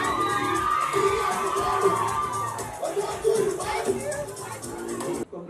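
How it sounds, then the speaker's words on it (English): An audience at an International Day of the Girl Child celebration cheers and shouts, with children's voices whooping amid a sustained crowd roar, loud and continuous before cutting off abruptly. "Please, a round of applause for her."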